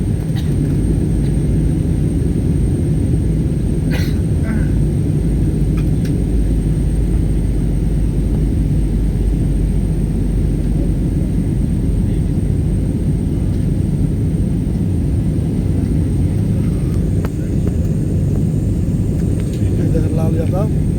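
Airliner cabin during descent through rain and turbulence: a loud, constant engine and airflow roar fills everything, with a voice talking over it.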